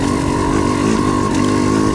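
A motorcycle engine runs at a steady low throttle, buzzing continuously up close while the rider eases along a muddy, icy singletrack trail.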